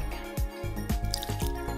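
Coconut water is poured in a small amount for a cream, giving a few quick, soft wet drips and splashes up close. The sound is quiet and brief, with no talking.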